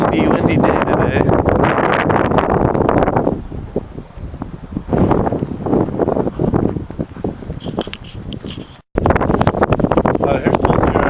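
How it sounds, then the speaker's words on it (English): Strong wind gusting outdoors, buffeting the microphone in heavy bursts that ease and return, with someone talking through the gaps. "got a windy day today."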